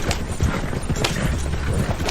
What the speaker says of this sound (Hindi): और जब घोड़ा गाड़ी उसकी नजरों से ओझल होने लगी